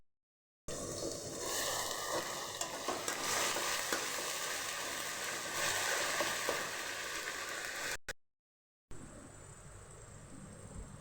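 Onions with ginger, coconut and garlic paste frying in a pan give a dense, steady sizzle broken by occasional stirring, briefly cutting out before a quieter stretch of cooking.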